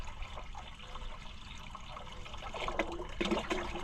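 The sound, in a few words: water draining from old Oliver Super 77 tractor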